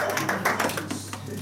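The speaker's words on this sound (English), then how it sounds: "Let's clap for Nana." An audience claps for Nana at a church service, a brief burst of scattered, fairly close hand claps.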